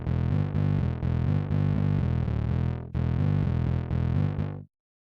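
An electric guitar track processed with fast distortion and a limiter plays dense, loud chugging chords in rhythmic bursts, then cuts off abruptly near the end, with no voices.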